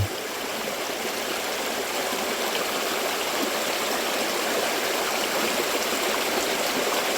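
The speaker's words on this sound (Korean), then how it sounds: "물소리만 이렇게 계속 들리고 있습니다." Steady rushing water of a clear mountain stream, continuous and fairly loud, with no voices.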